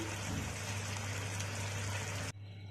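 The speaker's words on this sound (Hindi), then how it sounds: "और इसमें पानी ऐड कर देते हैं" Water is poured into a pan of sweet and sour chop suey, a dense, steady gushing splash that stops abruptly, leaving quiet room tone.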